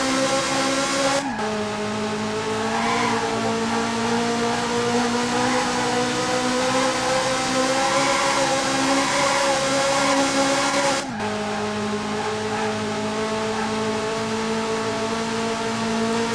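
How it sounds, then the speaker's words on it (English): Ferrari engine in a driving video game: a sustained, loud, droning whine with steady harmonic tones, broken by two sudden dips like gear changes before it climbs and holds again. No one talks over it. "So this is a Ferrari."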